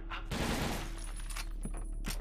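Video game gunfire from the shooter TimeShift crackles in a dense burst of rapid shots, loud and close, followed by scattered sharper reports amid game noise.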